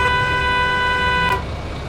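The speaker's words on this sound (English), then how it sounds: "It doesn't really help honking at them, but it gives me some satisfaction" A bus horn blares in the driving game Bus Simulator 18, one loud, steady, sustained honk that cuts off just before the end.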